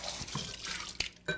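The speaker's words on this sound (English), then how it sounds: "Actually, give this a little rinse." Running tap water splashes while something is rinsed in a kitchen sink, a steady soft hiss broken by a couple of sharp clinks, heard close up with no voices.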